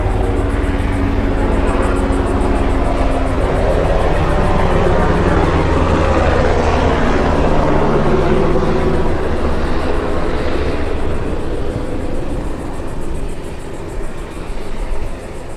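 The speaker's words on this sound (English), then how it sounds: "We have a helicopter going overhead" A continuous low roar and rumble of a helicopter passing overhead a residential bayfront neighborhood in Snug Harbor fills the whole stretch, loud and steady, easing slightly toward the end.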